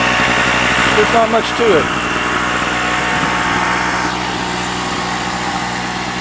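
A Harbor Freight generator runs outdoors behind a house with a steady, moderate engine hum, compared to an air compressor. Someone talks over it near the start, and the drone continues after he stops.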